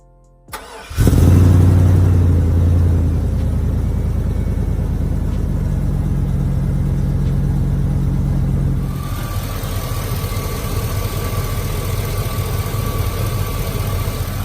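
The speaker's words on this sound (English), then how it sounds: "The engine is running, it's not overheating" A Chevy Silverado truck's LS engine starts up and runs loudly with a steady rumble, then settles into a lower, even idle after a water pump install. No one speaks.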